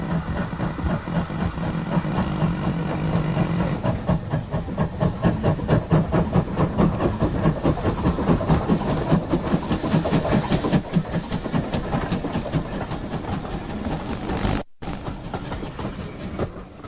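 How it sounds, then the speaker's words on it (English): A 1400 class steam tank engine hauling an auto coach pulls away from a junction toward Marlow, its chuffing exhaust and rolling wheels loud and steady throughout, with a brief dropout near the end. "A classic combination of an auto coach and 1400 tank heads away from the junction"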